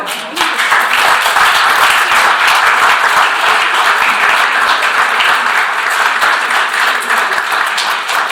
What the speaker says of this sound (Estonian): Aitäh, suur aplaus veel!